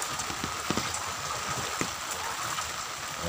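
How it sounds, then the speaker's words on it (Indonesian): Continuous rain falls in Tangerang outside a flooded mosque, a steady dense patter of drops on surfaces with a few louder nearby splashes, no talk. "hujan terus menerus"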